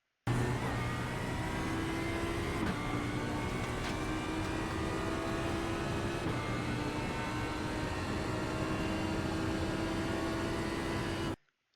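Audi R8 LMS EVO II GT3 engine in the iRacing sim at Sebring, a continuous droning race-car engine note with shifting pitch and occasional gear-change breaks, steady and moderately loud throughout with no talking.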